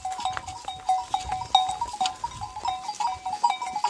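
A flock of sheep moves along a path past pear trees, with scattered bleats, rustling and tinkling bells coming from close by in a busy, uneven patter.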